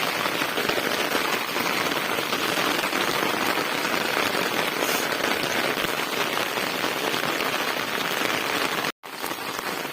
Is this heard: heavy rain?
yes